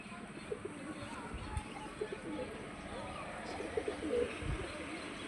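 Rock pigeons coo repeatedly during pairing, soft and low, with nearby rustling and scattered chirps in the background. A person speaks over the birds now and then.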